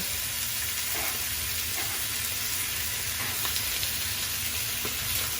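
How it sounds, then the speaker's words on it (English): Paella ingredients sear in a hot pan on a stovetop, giving a constant, even hiss of sizzling with a few faint clinks, close and unbroken without talk. "Get a little bit of that sear in there."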